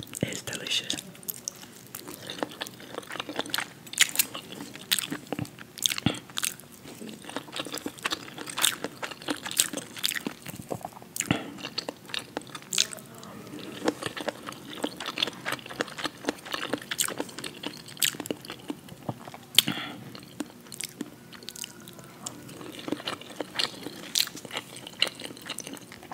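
Close, quiet chewing and biting of sriracha eggplant fried rice made with Trader Joe's sriracha sauce, with soft crunches and mouth sounds continuing steadily throughout alongside faint whispery noises.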